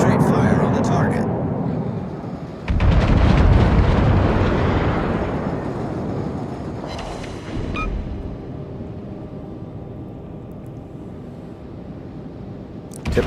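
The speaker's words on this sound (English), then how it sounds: "Typical battleship accuracy. 12 guns, 1 hit." Battleship main guns firing in World of Warships, a massive roaring salvo boom that rolls and decays over several seconds, with a second lighter burst later amid ongoing engine and ambient rumble.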